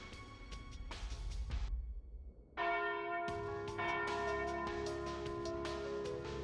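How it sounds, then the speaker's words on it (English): Noon church bell in the video game Trails through Daybreak, struck again and again with a long ringing tone that fills the scene after a brief quiet gap. "And there's the noon bell."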